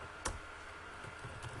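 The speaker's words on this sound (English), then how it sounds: "type in some names here." Keys on a computer keyboard tap faintly in a quiet room, one sharper click followed by a few softer, scattered presses.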